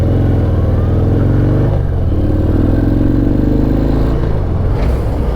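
A 2019 Harley-Davidson FXDR on a test ride, its engine a loud, continuous low throb with steady rumbling and wind noise, the pitch shifting gently as the rider goes.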